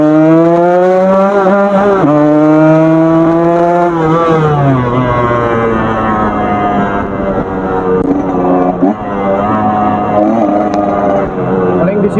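A Yamaha RX King two-stroke motorcycle with a ported engine revs hard nearby, climbing and falling through loud, raspy throttle blips over about twelve seconds.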